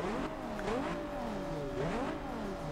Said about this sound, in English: Those turbos are making themselves a little bit more known.